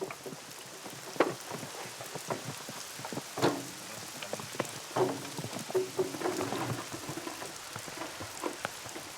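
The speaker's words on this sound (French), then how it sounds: "La bruine qui les a accompagnés tout le long du trajet se transforme peu à peu en une pluie battante." Steady heavy monsoon rain patters down with scattered louder drops and splashes, a continuous wet hiss throughout with no voices.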